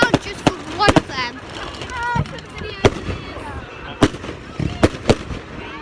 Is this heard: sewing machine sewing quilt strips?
no